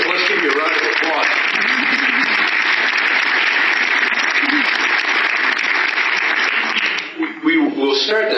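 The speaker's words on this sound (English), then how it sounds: "let's give you a round of applause." Audience applause fills a conference panel session, a sustained dense wash of clapping that holds steady at close range before thinning out near the end.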